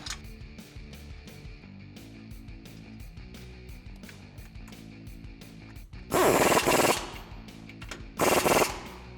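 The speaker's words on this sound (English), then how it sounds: "take your 18mm nuts and we're going to tighten down the bottom of the strut" An impact wrench tightens 18mm nuts on the strut bottom of a 2014-2020 Ford F150 with Rough Country leveling strut extensions, firing two loud rattling bursts, the second shorter, over a steady background hum and rhythmic music.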